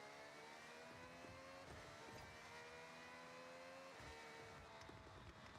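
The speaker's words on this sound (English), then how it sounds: "Is that the Carrera GT engine?" Porsche Carrera GT engine in the Forza Horizon video game, revving and surging steadily with rising and falling pitch, close and continuous with no voices over it.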